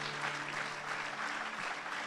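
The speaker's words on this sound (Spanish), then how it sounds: "Dele ese aplauso al Señor." A church congregation applauding during a worship service: continuous, moderately loud clapping from many hands that holds steady throughout, with a faint low hum underneath.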